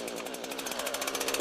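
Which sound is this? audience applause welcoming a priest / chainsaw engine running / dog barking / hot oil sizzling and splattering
chainsaw engine running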